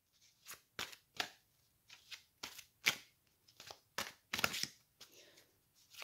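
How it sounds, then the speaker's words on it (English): Tarot cards are shuffled by hand in a quiet room, a series of brief soft riffling bursts at an irregular pace, close and fairly faint, with no talking. "I had already shuffled these cards, my dear, but I like to shuffle them on camera."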